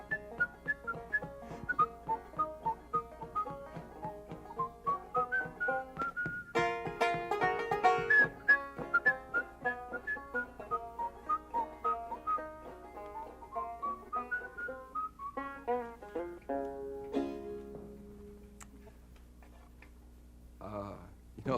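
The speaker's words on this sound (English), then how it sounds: "You can whistle along." A folk tune is whistled along by several people, its clear melody running steadily with a light ticking beat underneath, fairly quiet throughout.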